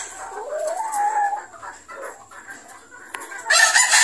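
A Sweater Red Kelso gamefowl rooster, a Super Sweater cross Red Kelso, crows once on a gamefarm: a single drawn-out call, fairly close and clear, with faint farm ambience and a burst of clucking noise near the end.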